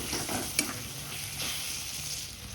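Chopped medium tomato hits a hot pan of spice paste with a strong sizzle as it is stirred, including one sharp scrape of the spoon and a continuous frying hiss with no talking.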